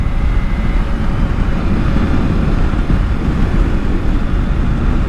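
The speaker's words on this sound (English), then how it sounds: "Another windy day." Steady wind roars and buffets across a microphone on a windy, overcast day while riding, a dense continuous rumble that stays loud and unbroken throughout.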